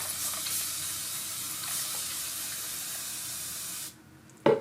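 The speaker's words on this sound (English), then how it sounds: "we're gonna spray the inside." A spray bottle's long continuous hiss runs for nearly four seconds while misting the inside of a pot while repotting an Anthurium, then stops abruptly, followed by a brief clunk.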